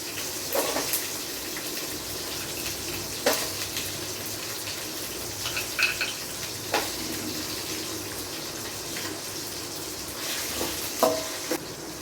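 Almonds, raisins and cashews frying in ghee for Kashmiri pulao give a steady soft sizzle, broken by several sharp scrapes and clinks as they are stirred in the pan.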